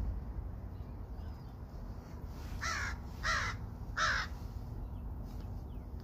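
A crow caws three times in a steady rhythm, the calls fairly clear but set against a constant outdoor hiss of traffic or wind during a walk in Ottawa's Alta Vista area.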